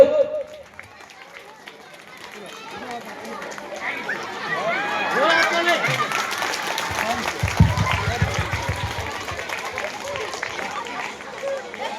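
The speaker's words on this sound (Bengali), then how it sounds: "তুমি নিজেও হাততালি দাও" An audience claps at an identity-card presentation, the applause swelling into a dense patter over crowd chatter and a speaking voice, then continuing steadily.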